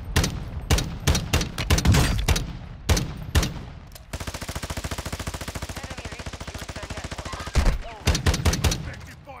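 Video game gunfire from a DMR-style rifle: bursts of loud close shots, then a sustained rapid automatic stream of rounds for several seconds, followed by more sharp shots, with no talk.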